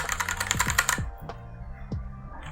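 Typing on a Noir N1 v3 mechanical keyboard with foam dampening, a quick run of clacky keystrokes followed by a few sparser individual presses, close and moderately soft.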